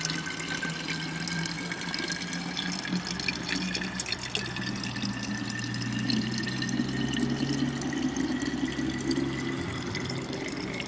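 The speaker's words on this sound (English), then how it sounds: "This water is natural spring water out of the ground here" Natural spring water pours continuously from a fountain on the Chemin de Rossillon, a steady splashing trickle into a basin, close and unbroken throughout.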